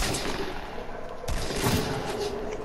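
Shotgun and other gunfire in a multiplayer duos shooter game, a steady barrage of shots with a sharp blast near the middle, loud and dense throughout.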